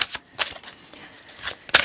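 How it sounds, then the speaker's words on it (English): Oracle cards being shuffled by hand during a tarot reading, giving several brief papery riffles and slaps spaced irregularly, close and fairly quiet, with no voices. "I was about ready to get into Oracle, which I'm going to sort of just shuffle here"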